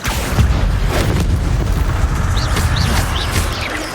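Incendio fire spell cast in Hogwarts Legacy: a steady, rumbling fiery blast with a booming onset and crackling texture, loud and sustained throughout, with faint chirp-like effects toward the end.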